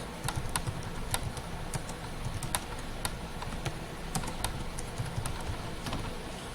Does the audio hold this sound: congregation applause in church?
no